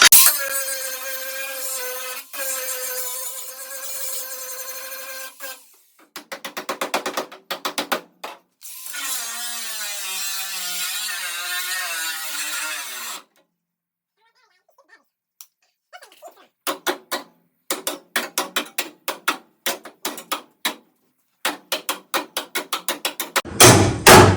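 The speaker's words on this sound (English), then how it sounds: "I'm grinding away at this edge, which is cutting this quarter panel off." An angle grinder cuts through the edge of a 1969 Dodge Coronet's steel quarter panel, loud whining bursts that stop and restart, followed by a quieter stretch and then a rapid run of short, sharp grinding pulses.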